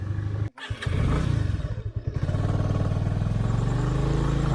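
Motorcycle climbing a steep hill road toward Kottaimalai, its engine labouring and stalling partway up; loud and close, with a sharp drop near the start before the motor runs on steadily, no talking.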